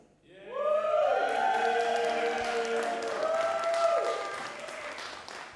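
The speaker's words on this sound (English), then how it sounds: "Yes, a round of applause!" An audience applauds at the IYMS 2022 closing ceremony, the steady clapping and cheering swelling in quickly, holding loud for several seconds and then fading out.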